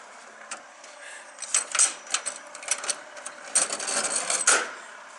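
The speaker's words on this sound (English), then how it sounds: "we did find a baguette vending machine" Baguette vending machine in France working through a purchase: a run of clicking, clunking mechanical movements and rattles, moderately close, in uneven bursts with short pauses.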